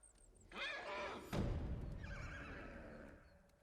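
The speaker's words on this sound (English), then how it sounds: "angry horse." Angry horse in the samurai action game Ghost of Tsushima gives a loud, shrill whinny that trails off, followed by a heavy thud and a lower snorting neigh, with faint ambient game sounds behind.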